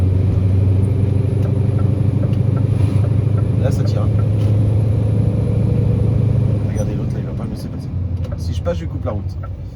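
Car engine labouring steadily as it climbs a winding uphill road, a loud continuous low drone that eases somewhat toward the end, with someone talking over it.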